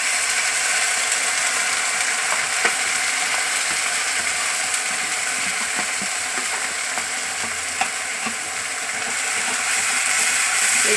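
Steady crackling sizzle of ginger, garlic, green chilli, Kashmiri chilli and salt frying in a pan for mutton biryani, with scattered scraping clicks from stirring, continuous and fairly loud with no talking.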